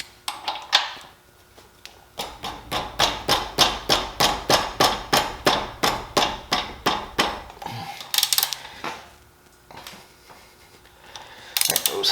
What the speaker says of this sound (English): Now we're going to loosen the axle nut.